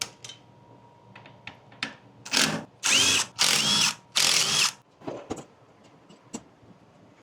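A power drill removes the headlight bolts on a Harley Softail during a fairing install, with several loud whirring bursts of a few seconds each in a row, close up, and light clicks and handling noises between them.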